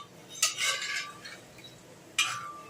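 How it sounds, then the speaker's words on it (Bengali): A metal spoon stirs boiled chickpeas with spices in a pan, with two distinct clinking scrapes against the pan about two seconds apart and quiet shuffling between them. "মশলার সমেত এবার ছোলাটাকে এখানে মিশিয়ে নিতে হবে।"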